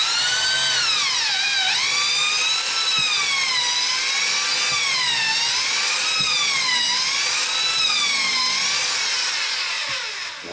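A power drill driving screws into a door frame stud, a loud, close, high whine that repeatedly rises and falls in pitch as each screw spins in, running steadily and alone without talk.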